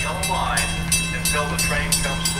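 Metra commuter train at a station in Buffalo Grove during pouring rain, a steady rumble with rhythmic clicking pulses as the cars roll past, fairly close and continuous.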